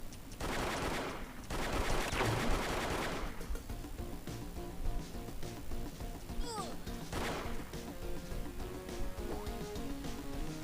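Repeated gunfire from a newly tried weapon in the battle royale game HeyHa Royale, heavy bursts early then scattered shots over game music and effects.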